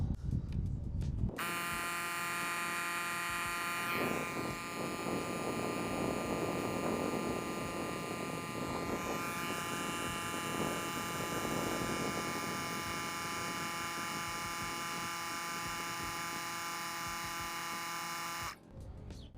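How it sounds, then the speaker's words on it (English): A portable air compressor inflating a Ford F-150 truck tire gives a loud, steady motorized buzz with a strong hum that runs nearly the whole time, starting abruptly and cutting off near the end, with no talking. "that should activate the air compressor to start inflating it"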